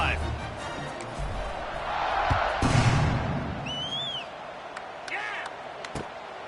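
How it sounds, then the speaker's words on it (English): Stadium crowd in College Football 26 cheering on a kickoff, a steady roar that swells mid-clip, with whistles and scattered clapping under a commentator's voice. "this crowd is feeling themselves after that last drive"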